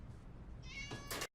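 A cat meows in a scene from the film The Hunger Games: Mockingjay Part 1, one short clear meow rising near the end over low background rumble.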